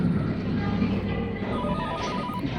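A telephone rings steadily in a staged job-interview role play, its repeating ring sitting under a dense bed of room noise and murmuring voices.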